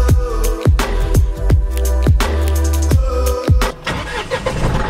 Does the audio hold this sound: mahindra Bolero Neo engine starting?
yes